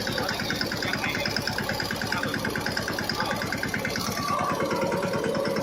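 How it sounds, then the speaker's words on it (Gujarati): A tractor engine idles steadily close by, its rapid, even mechanical chugging continuing without pause throughout. "બાર ટ્રેક્ટર ચાલુ છે"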